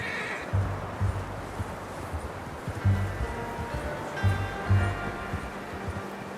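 A horse in a video game snorts and whinnies a few times over a steady outdoor rustle, with soft hoof clops nearby; no clear talking.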